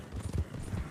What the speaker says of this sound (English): I just saw 3 horses behind us.